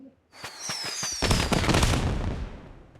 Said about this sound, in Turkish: Bu nedir? Hava fişek.